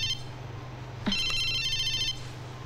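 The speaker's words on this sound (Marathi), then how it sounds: "फोन आहे तुझा." A telephone rings in a home scene from a Marathi film, its electronic ringtone starting about a second in and trilling steadily for roughly a second over a faint background hum before stopping.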